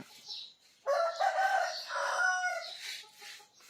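A fighting-breed rooster crows loudly and close by, one long drawn-out call rising and falling, with no talking.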